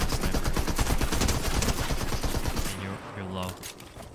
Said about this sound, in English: I want to finish you off with this sniper.